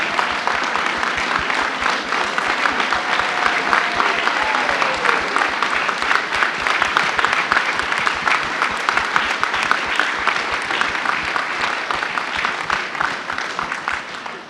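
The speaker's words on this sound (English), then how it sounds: "this group deserves a round of applause and a standing" Banquet audience at a chamber of commerce awards dinner giving sustained, vigorous applause during a standing ovation, a loud, even wall of clapping from many people lasting the whole stretch.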